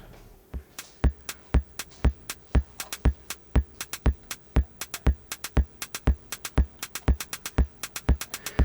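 A steady electronic techno pattern from an AE Modular synthesizer patch pulses with a punchy bass drum thumping on every beat, backed by short clicky synth hits in an even, driving rhythm.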